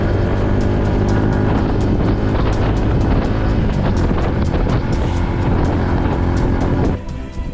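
A car drives along the Maharlika Highway, giving a loud, continuous engine and road roar with wind buffeting close to the microphone. The roar drops away abruptly near the end.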